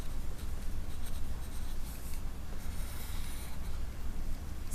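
Pencil or pen scratching steadily across paper while a table is sketched, continuous soft rubbing strokes close up over a low background hum, no talking.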